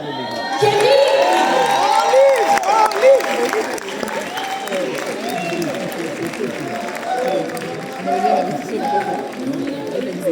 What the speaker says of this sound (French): Continue les applaudissements, s'il vous plaît